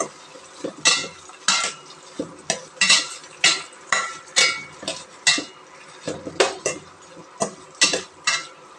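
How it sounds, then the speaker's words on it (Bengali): Shrimp are stirred in a metal cooking pot with a utensil, making a steady series of loud scraping clanks about every half second over a quiet sizzle, with no talk. "চিংড়ি মাছগুলো দিয়ে ভালো করে এখন আমরা নাড়ব।"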